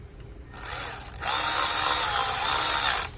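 A small 1/4 inch Milwaukee driver whirs close by as it runs in water pump bolts on a 1994 Ford Explorer, a brief burst followed by a longer sustained high-pitched whine that stops abruptly.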